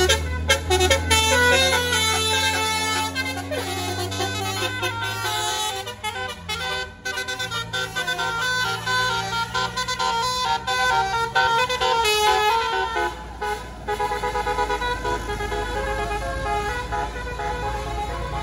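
Musical telolet horn from a tour bus on the Pangandaran road, loud melodic toots playing tune-like sequences over rumbling engine and traffic noise, continuing through the stretch with sliding pitch changes.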